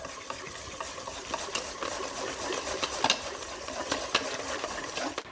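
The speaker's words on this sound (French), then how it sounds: "Et là, je vais à nouveau mélanger énergiquement." Flour and baking powder are vigorously stirred into a vanilla cupcake base in a bowl. The scraping and swishing is close, steady and busy, with small clicks of the utensil against the bowl and no talking over it.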